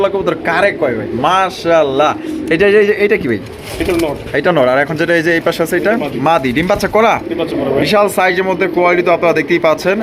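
Pigeons, including fancy, racer and Raj Golla breeds, coo softly in the background at a pigeon seller's while someone talks almost continuously over them.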